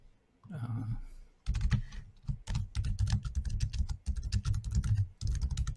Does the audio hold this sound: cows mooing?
no